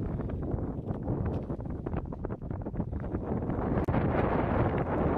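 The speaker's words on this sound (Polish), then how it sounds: "Jak słychać, tylko wiatr tu hula." Gusty wind buffets the microphone with a low, continuous rumbling roar and irregular rustling, no speech.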